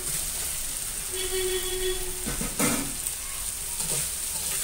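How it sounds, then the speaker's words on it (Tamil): Pre-fried chicken goes into a hot pan for chicken fried rice, setting off a steady, loud sizzle with a burst of spattering and stirring scrapes midway, heard up close over a constant hiss, no talking. "இப்போ நம்ம வறுத்து வச்ச சிக்கன் போட்டுடலாம்"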